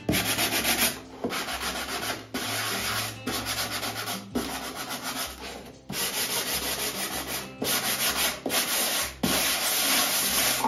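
Steady scratchy rubbing of sandpaper on a hard painted stencil surface, in repeated back-and-forth strokes with brief pauses between, close up and fairly loud.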